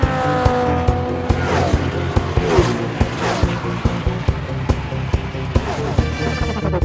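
Toy trucks and a race car racing in a children's show: a loud, steady engine-like roar with sharp repeated clicks and squealing tire sweeps running throughout.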